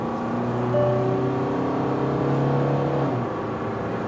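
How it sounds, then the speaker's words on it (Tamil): Kia Carens diesel automatic engine pulling hard under full throttle in sport mode, heard from inside the cabin as a steady, loud droning hum with rising tonal whine, no talking. "இன்ஜினோட சவுண்ட் ரொம்ப நல்லா கேட்குது உள்ளே, ரொம்ப நல்லா இருக்குது கேட்கறதுக்கு"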